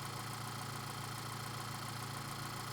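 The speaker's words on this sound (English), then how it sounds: "start the engine and allow it to idle" An Audi or VW car engine idles in park with the parking brake set, a steady low hum and faint rumble running evenly throughout at a quiet, constant level.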